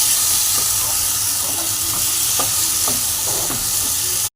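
Fried potatoes are stirred into a spiced masala in an oily pan, a loud steady sizzle and hiss punctuated by scraping, clattering stir strokes of a spatula, close-up with no speech.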